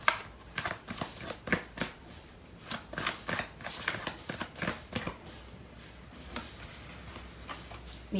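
Tarot cards are shuffled by hand up close, a quiet series of soft riffling slaps and flicks repeating in uneven bursts.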